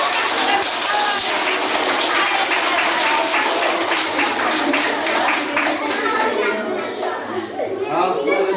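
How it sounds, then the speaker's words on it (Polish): Children and adults in a kindergarten clap together in a sustained burst of applause, dense and close, with children's voices and chatter mixed in and the clapping thinning toward the end. "Brawa dla Doradki"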